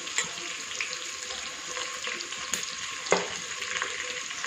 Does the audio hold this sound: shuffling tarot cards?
no